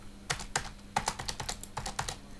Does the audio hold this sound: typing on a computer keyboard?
yes